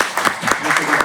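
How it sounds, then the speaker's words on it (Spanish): Brief burst of audience applause at an electrical-industry event, rapid hand claps close by that rise and fall in quick pulses for about a second. "Un aplauso para él,"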